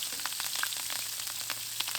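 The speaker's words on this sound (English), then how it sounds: "dump in our herbs and oil, and those things are sizzling and smelling really good" Herbs, garlic and oil sizzle and crackle in a cast iron skillet, a soft, steady frying hiss dotted with small pops, fairly quiet and without voices.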